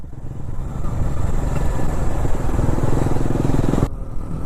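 Motorcycle engine during a ride in Kerala, from Valparai toward Pollachi, a steady close rumble with road and wind noise running for about four seconds before dropping away abruptly near the end.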